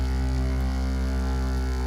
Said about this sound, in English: That noise is my vortex mixer shaking up my paint